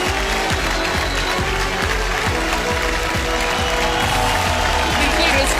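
An audience applauding steadily at an event, continuous clapping and crowd noise running loudly throughout, mixed with an announcer's excited talk and a repeating low thumping beat.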